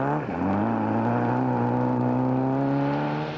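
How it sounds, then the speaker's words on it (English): Peugeot 205 rally car driving a rally stage, its engine note a steady, buzzing drone that climbs slightly in pitch as the car pulls through, with no voices over it. "Leicester's Steve Green in a Peugeot 205 tried the tight line."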